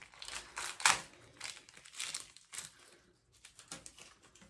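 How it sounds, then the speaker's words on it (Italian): A packet of gloves is crinkled open close by in quiet surroundings, the plastic giving soft, irregular crackles and rustles with a sharper crunch near the start. "Intanto apriamo i guanti."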